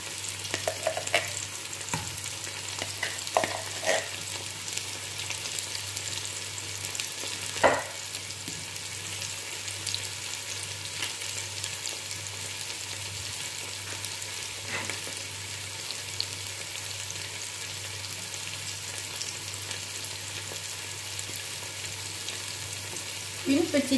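Chicken noodles stir-frying in a pan with added tomato paste, a steady sizzle running throughout with occasional scrapes and clacks of stirring, fairly quiet and with no talking.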